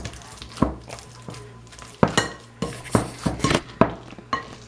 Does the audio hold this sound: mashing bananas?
yes